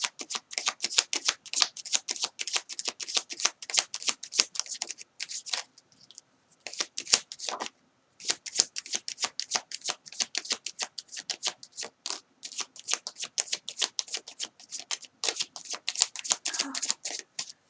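A tarot deck being shuffled close up, long runs of rapid crisp card riffles and flicks with brief pauses as cards are drawn, some faint talk in between.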